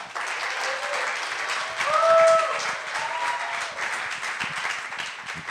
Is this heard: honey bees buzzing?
no